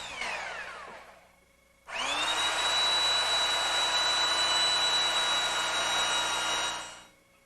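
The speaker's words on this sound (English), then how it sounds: "using a belt sander, we can now remove the waste up to the scribed line" A belt sander grinds a wooden mantel top down to a scribed line: one brief burst, then a pause, then a loud steady whine with a high tone that lasts about five seconds before it winds down.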